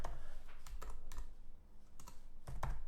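Typing on a computer keyboard while entering text on screen: a sparse, uneven run of close key clicks in small clusters, with no voice present.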